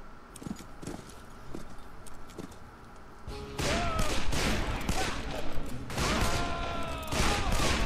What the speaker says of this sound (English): The shooting!